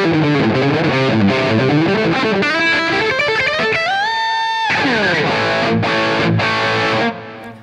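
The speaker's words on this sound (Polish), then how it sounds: "Pojawia się dodatkowy przester, ale jest on dość wysoki, taki siarczysty." Heavily overdriven electric guitar through a Taurus SH7 Apogee floor amplifier turned to maximum volume, with bright, biting extra distortion; loud chords and a sustained bending note ring out before the playing cuts off.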